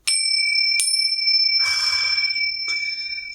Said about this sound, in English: you're pretty enthusiastic about the bells, eh?